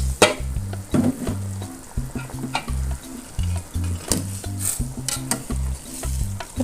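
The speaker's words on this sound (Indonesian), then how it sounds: "Nah, sekarang kita masukkan tahu." Tofu added to a simmering spicy sour Padang-style sauce with spring onion and celery, a spoon clattering and scraping the pan in rhythmic bursts over a constant bubbling sizzle, close and fairly loud.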